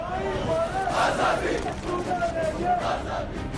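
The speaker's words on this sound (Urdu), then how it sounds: "مودی مخالف نعرے لگائے" Thousands of Kashmiris at a funeral prayer for young men chant slogans against Modi, a loud massed crowd roaring in rising call-and-response waves that fill the whole clip.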